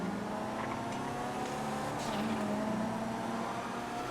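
Steady race car engine drone from GTA FiveM, a continuous mid-level hum of motors running in a pack with slight shifts as cars overtake, no talking.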